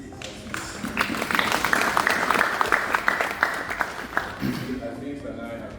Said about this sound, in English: a hand of applause for my brother Aziz